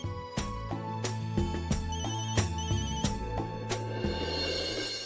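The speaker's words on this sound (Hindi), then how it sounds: "मुझे ऑफिस से फोन आया था" A phone ringtone plays loudly and steadily, a repeating electronic melody of bright, evenly spaced notes that carries through the whole stretch with no talking, signalling a call from the office.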